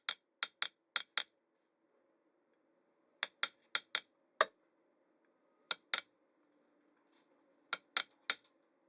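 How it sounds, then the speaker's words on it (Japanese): A veteran Kyoto blacksmith engraves a maker's mark into a steel kitchen knife with sharp metallic taps in quick clusters of three or four, separated by short quiet pauses. "鋼で銘を彫って完成です。"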